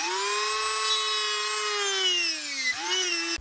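A handheld rotary tool with a burr bit grinds the edge of a homemade metal ice fishing lure, a loud steady high-pitched whine that dips briefly near the end as the bit catches, then resumes before cutting off.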